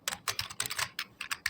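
Fingers type on a computer keyboard while writing a Notepad script, a close, quick, uneven run of crisp key clicks with no voices.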